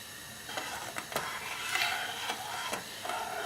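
A pot of homemade ayurvedic liquid shampoo simmers on the stove with a soft, steady bubbling hiss and a few light clicks and taps of stirring, quiet and close, with no talking.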